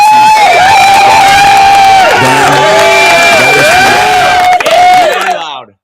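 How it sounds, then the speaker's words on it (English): Loud crowd cheering and whooping with applause, shrill sustained shouts and cries filling the room before fading out abruptly. "Let's give them a round of applause."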